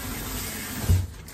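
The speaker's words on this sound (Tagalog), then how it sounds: "So, hugasan muna natin siya." Running tap water splashing over green noodles in a sink, a steady close wash with a brief louder surge near the end.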